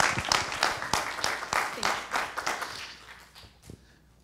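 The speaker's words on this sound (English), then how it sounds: "So let's give him another round of applause." Applause from an audience at a community mental health meeting, honoring a councilman: a burst of clapping that is strongest at first, then thins and fades over about four seconds.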